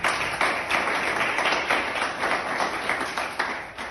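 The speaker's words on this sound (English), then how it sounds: "I think that deserves a round of applause." A sports-news audience gives a dense round of applause, with many hands clapping continuously at an even level for the whole four seconds.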